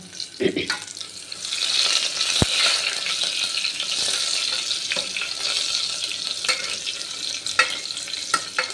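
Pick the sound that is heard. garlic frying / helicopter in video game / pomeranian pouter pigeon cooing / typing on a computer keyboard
garlic frying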